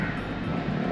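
A small quadcopter drone flies and sets down indoors, its motors giving a steady, close, continuous buzzing whir for the full second with no talk.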